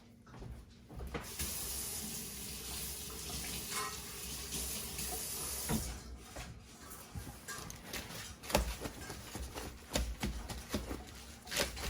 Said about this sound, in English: Let's rinse this off and pat it dry.